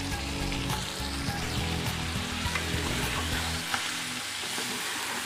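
Fresh mint and coriander chutney with green chilies stirred into a hot pan, giving a loud, continuous sizzle with intermittent spatula scrapes and clatter throughout, no talking.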